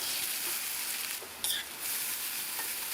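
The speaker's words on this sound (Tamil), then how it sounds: "இந்த அவலை வந்து இந்த நெய்லேயே நல்லா வந்து நம்ம ரோஸ்ட் பண்ணிக்கணும்." Washed flattened rice (aval) roasts in ghee in a kadai, giving a constant close sizzle and crackle, with a brief louder scrape or stir in the middle.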